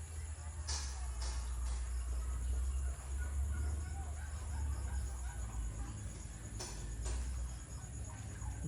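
Free-range chickens cluck in the open outdoors, a few short clucks rising over a steady low rumble and a constant insect-like hiss, fairly distant and faint.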